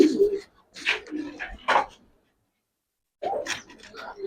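Giribaz silver pigeons coo in a few soft, throaty bursts, close by, with a short silent gap before the cooing resumes.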